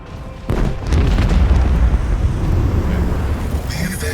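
Macro cannons on a starship open fire in Warhammer 40K: Rogue Trader, a sudden loud deep boom that rolls into a sustained heavy rumble with crackling bursts, close and dense.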